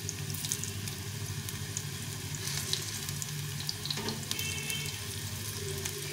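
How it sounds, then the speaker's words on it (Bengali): Green pea tikki patties fry in a pan with a steady, soft sizzle and light crackle that runs continuously, fairly quiet, with a brief clatter near the middle as they are turned over. "আমি উল্টে পাল্টে এরকম করে ভেজে নেব।"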